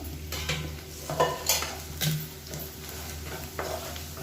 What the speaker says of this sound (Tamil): நல்லா வதக்கி விட்டுட்டு மீடியமான ஃப்ளேம்லேயே வதக்கி விட்டுக்கோங்க